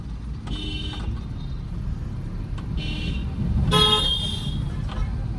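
A car horn honks while overtaking on the road, giving several separate toots of varying length over steady traffic and engine rumble, the last one longest and loudest.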